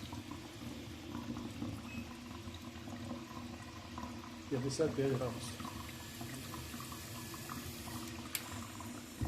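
Tap water runs through a Wezer RKF-10C instantaneous electric water heater, a steady hissing, gurgling flow with a brief splashing surge midway, under someone speaking briefly.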